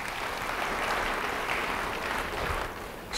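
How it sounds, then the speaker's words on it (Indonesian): Sustained applause from a congregation at a church service fills the space, steady and fairly loud throughout, with no speech over it. "Beri tepuk tangan bagi dia."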